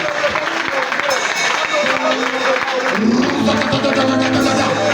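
A prayer meeting congregation shouts and acclaims together, a dense, loud wash of voices and crowd noise with some clapping, going on under a preacher's amplified speech.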